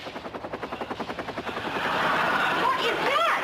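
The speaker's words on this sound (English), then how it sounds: "Daddy's chopper, he's here" A helicopter arrives, its rotor thudding in a steady rapid pulse that grows louder and merges into a sustained roar, with faint whistling tones near the end.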